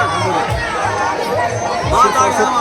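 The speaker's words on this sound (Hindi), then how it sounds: "माता के दरबार मेरा प्रसाद लेने के लिए यहाँ भीड़ ज़्यादा खड़ी है" A dense crowd packs a village fair in Darbhanga, Bihar, queueing for offerings at a goddess temple, a steady close hubbub of many overlapping voices with occasional children's shouts.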